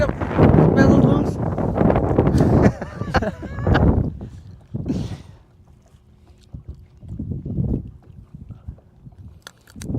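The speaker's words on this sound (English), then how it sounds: "where'd this wind come from?" Gusty wind blowing across Lake Guntersville, buffeting the microphone in loud rumbling surges that ease off partway through, with people talking over it.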